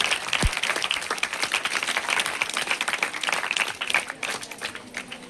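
Applause from a school parent-teacher meeting audience, a dense crowd of hands clapping steadily for several seconds at moderate distance, with no talking.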